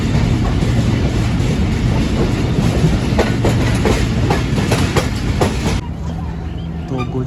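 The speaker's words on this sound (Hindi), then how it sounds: "तो गोजरा रेलवे स्टेशन पहुंची थी हमारी ट्रेन और रवाना हो रही है" The 46DN Pakistan Express passenger train pulls out of Gojra station, its wheels keeping a steady clickety-clack under a loud rumble from inside a crowded carriage. Near the end the rumble softens.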